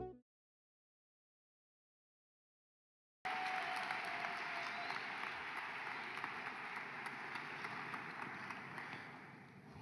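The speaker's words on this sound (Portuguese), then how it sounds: "Recibamos con un fuerte aplauso al pastor Avi Uber." A church congregation applauds to welcome a visiting pastor, breaking in after a few seconds of silence as a loud, steady wash of clapping that holds evenly and tapers slightly toward the end.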